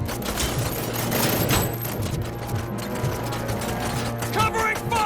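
Bursts of covering gunfire fill a combat scene in the video game RoboCop: Rogue City, sustained rapid shots and mechanical clatter under a shouted voice, loud and dense throughout.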